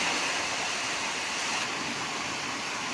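Heavy evening downpour and a swollen river rushing in full flood, a steady dense roar of water with no pauses, loud and close throughout, no voices.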